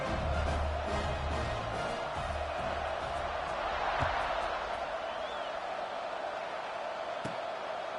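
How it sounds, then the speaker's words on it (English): A football stadium crowd hums with a steady, distant buzz of voices, a broad murmur that holds without sharp peaks while a commentator talks over it. "this crowd is buzzing after that last score"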